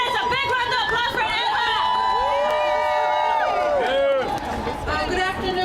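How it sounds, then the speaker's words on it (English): A rally crowd in Chicago shouts and cheers, with loud overlapping voices and whoops from many people packed close together and sustained for several seconds. "A big round of applause for"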